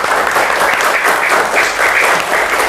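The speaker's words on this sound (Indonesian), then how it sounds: "Tepuk tangan untuk kita semua" Steady, dense applause from a classroom of students, many hands clapping together at close range and holding an even level throughout with no break.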